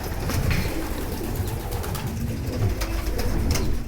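Homing pigeons cooing steadily inside a loft holding hundreds of birds, several overlapping soft coos and calls close by over a constant busy background rustle, with no talking.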